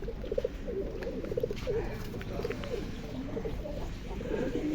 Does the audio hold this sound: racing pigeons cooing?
yes